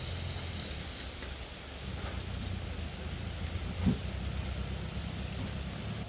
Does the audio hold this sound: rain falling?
yes